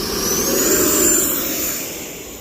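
An E-flite Viper 90mm electric ducted fan RC jet lifting off at full throttle, a steady loud high-pitched whine with a broad rushing roar that eases slightly toward the end.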